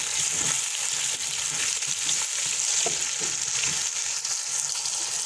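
Continuous sizzling and crackling of onions and tomatoes frying in hot oil, close up, with occasional soft stirring sounds and no speech.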